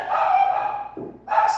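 Dogs barking in a short, close burst during a church prayer service, with the yapping broken by a brief pause before a final bark.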